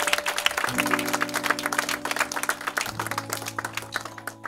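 A church congregation applauding to acclaim Jesus during a consecration service, brisk dense clapping from many hands throughout, with sustained musical tones underneath.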